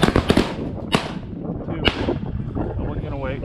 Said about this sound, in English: Shoot him right there, guys.